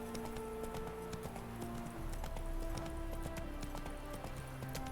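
Roach, the horse in The Witcher 3, gallops in a steady rapid clip-clop of hooves that runs throughout, with game music and ambient sound layered underneath and no talking.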